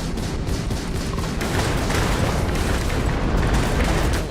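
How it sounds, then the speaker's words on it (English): Weapon fire and explosions in the Starfield video game, a dense, steady barrage of shots and blasts running loud throughout with no pauses. "Let me just shoot at you."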